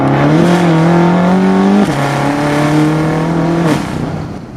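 A tuned BMW F13 M6 with a Stage 2 map accelerates hard, its engine a loud, close, rising drone that climbs steadily, drops sharply at a gear change, climbs again, then shifts once more near the end.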